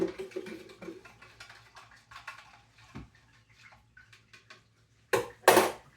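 Soft scraping and clinking of a utensil stirring dye powder into water, with light splashes, followed by a couple of louder sloshing bursts near the end.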